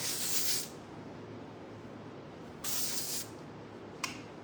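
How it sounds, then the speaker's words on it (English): Hairspray comes out of a can in three separate hissing bursts. The first two last about half a second each and the last is a quick puff. The hiss is close and fairly soft over a quiet room, with no talking. "Okay, a little bit of hairspray."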